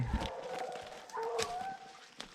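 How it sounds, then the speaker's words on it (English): Hunting dogs bay and bark in the distance during a bear hunt, a few short outbursts followed by a longer drawn-out howl, with faint outdoor ambience. "I hear my young dog starting to chime in with her."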